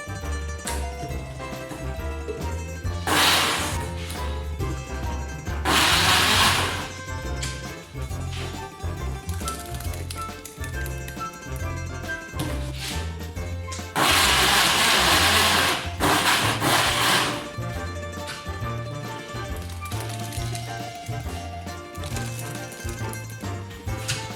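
A blender pulses while chopping about five kilos of tomatoes for a Napoli sauce with marjoram, giving several short bursts of motor whir with brief gaps and low rumble in between.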